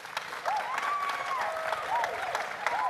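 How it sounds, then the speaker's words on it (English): Dense applause from a crowd, steady clapping throughout with a few faint whistles rising above it. "Let's give them a round of applause."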